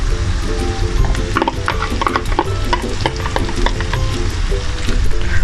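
Cooked rice and egg sizzle and fry in a hot pan for nasi goreng, a loud continuous crackle broken by frequent scraping and stirring clicks of a spatula, with no talking.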